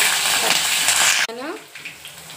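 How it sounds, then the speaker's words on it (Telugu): Mustard seeds, cumin and dried chillies sizzle loudly in hot oil, a dense crackling hiss that abruptly drops to a softer fry with faint stirring and a voice underneath. "ఆవాలు, జీలకర్ర, ఎండుమిర్చి వేగిన తర్వాత పచ్చిమిర్చి వేసుకోవాలండి."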